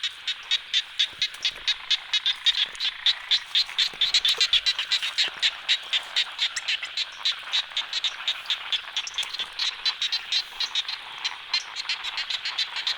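Frogs croak in a dense, rapid, rhythmic chorus through the night, a steady pulsing series of many calls that is close, fairly loud and continuous, with no voices.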